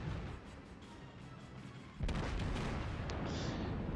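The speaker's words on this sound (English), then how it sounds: "He's still firing high explosive." Naval artillery firing high explosive rounds in a warship battle video game, with a loud sudden booming salvo that rolls into sustained rumbling blasts after a quieter stretch of background engine noise.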